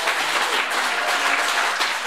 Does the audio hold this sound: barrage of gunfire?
no